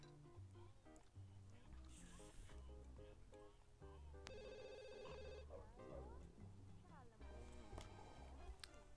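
A telephone in the video game The Sims 2 rings in a repeating electronic trill, rather quiet and backed by music, with voices talking over it.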